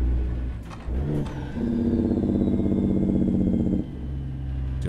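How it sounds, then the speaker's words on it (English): A heavy truck engine in American Truck Simulator rumbles with a steady, throaty, pulsing drone as the engine brake engages, holding loud and close for a few seconds before easing off. "we can just go into our low settings of our engine brake, and we'll just kind of flip it on here in a second"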